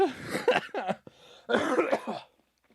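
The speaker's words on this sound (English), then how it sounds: "Making me cough my lungs out" A string of harsh, close coughs in quick bursts, trailing off into near silence at the end.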